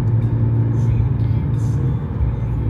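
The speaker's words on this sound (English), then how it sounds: "you guys see this car in front of me?" Honda Fit driving in traffic, a low engine rumble and road noise heard steadily from inside a moving car, with someone talking over it.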